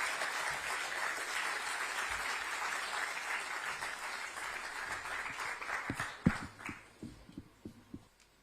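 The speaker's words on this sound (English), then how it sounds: "Can we please have a big round of applause?" Applause for guests fills a hall at a business chamber's annual general meeting in Mumbai, a dense round of clapping that thins out into a few scattered louder claps at the end.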